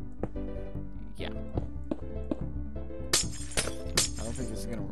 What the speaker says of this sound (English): Taco Bell, should I use glass pane? Yeah, I'll use glass pane.